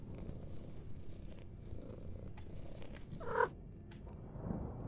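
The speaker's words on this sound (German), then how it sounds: "Okay, eine Katze." Cat purring in a horror video game, a soft continuous rumbling purr with a brief brighter sound near the end, fairly quiet and close, no talking over it.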